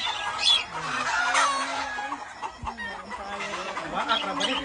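Chickens cluck repeatedly close by in a busy, uneven chatter, with a rooster-like call rising among them and faint voices in the background.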